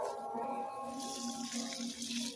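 Liquid organic fertilizer poured to water a potted mango plant on a home terrace, a soft steady trickle and splash of liquid with a faint tonal hum beneath.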